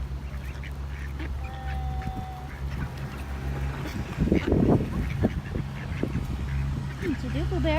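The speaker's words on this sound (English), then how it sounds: "Because geese need to eat too. They keep hissing." Geese and ducks at the water's edge during feeding give honks and calls that rise into a loud burst of squawking midway, over steady outdoor rumble, with a person talking nearby.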